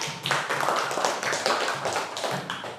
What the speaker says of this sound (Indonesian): Kasih tepuk tangan buat Nila